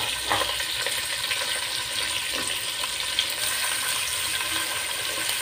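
Sliced onions sauté in hot oil for a coconut milk rice dish, giving a dense, continuous hiss and sizzle with a few faint stirring scrapes, near and even in level, and nobody speaking.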